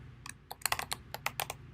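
Quick, irregular keystrokes on a computer keyboard while Java code is typed, a run of close, light clicks with a low steady hum beneath.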